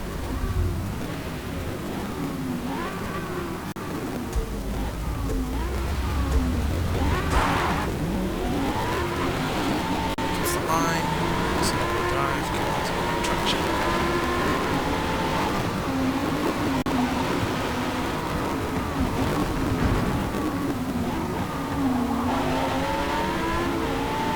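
Lamborghini Huracán race car in the Forza Motorsport video game, a loud continuous engine howl rising and falling through gear changes over about twenty-four seconds, with tyre noise and other cars mixed in.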